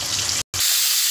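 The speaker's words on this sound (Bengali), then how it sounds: "তো মাছের মাথাটা ভাজা হোক।" Fish head from a 700-gram fish frying in hot oil, a loud steady sizzle that cuts out for a moment and then resumes with a brighter, hissing crackle.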